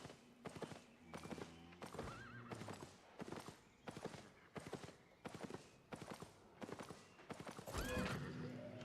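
Horse hooves clip-clop in a steady galloping rhythm while the horse whinnies in a video game, loud and close, with a brief louder burst near the end.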